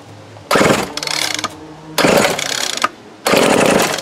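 Snapper S31SST string trimmer with carburetor trouble, on full choke, being pull-started three times: loud rattling bursts of the recoil and sputtering engine, each about a second long, separated by short quiet gaps, never catching.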